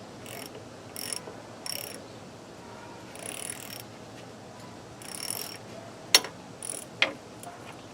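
A ratchet cranks a brake bleeder on a 1979 Chevy K20 with the brakes being worked on, giving several short bursts of clicking through the first half, then two sharp metallic snaps near the end over a quiet background.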